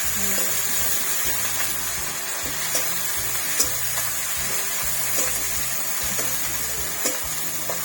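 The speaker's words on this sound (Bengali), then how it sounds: "মশলাটা ভালো করে কষিয়ে নিই।" Spice paste fries with bottle gourd greens and bata fish in a pan, a constant loud sizzle with occasional scraping stirs close by, and no voices heard.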